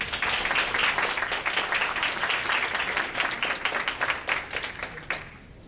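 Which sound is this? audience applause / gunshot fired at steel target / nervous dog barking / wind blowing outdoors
audience applause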